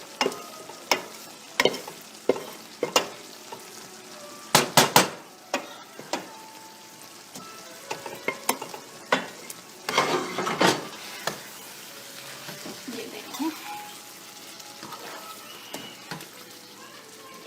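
Chicken kofta being stirred into fried spinach in a pan, with repeated scraping spoon strokes and soft sizzling, close up, spaced clacks against the pan and no talk.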